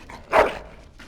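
A single short, sharp bark from a dog in the video game Dragon Age: Origins, close and clear against faint background noise.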